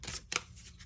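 Cards of a small Tarot deck shuffled hand over hand, a few soft papery riffs and slaps close by with a sharper burst partway through, brief and quiet.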